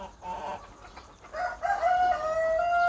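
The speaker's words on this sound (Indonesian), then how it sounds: "Ini sebelah kita Ini ayam AKY." Chickens cluck, then a rooster crows loudly in a long rising call, with farmyard noise in the background, on a farm of KUB and AKY breed chickens.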